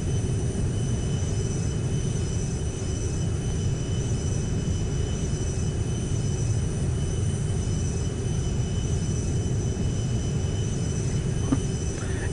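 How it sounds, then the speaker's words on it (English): A small airplane engine drones steadily in flight, a loud continuous cabin roar with constant tone and no breaks, heard from inside the plane. "Just flying a plane, talking to you."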